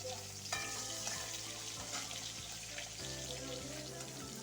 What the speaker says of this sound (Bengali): সব মাছ এইভাবে ভেজে নিব